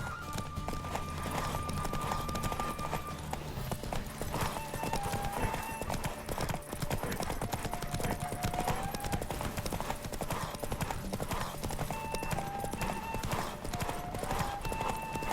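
Rhythmic hoofbeats clip-clop steadily as a horse gallops in The Witcher III: Wild Hunt, with music and synthetic effects layered over the galloping throughout.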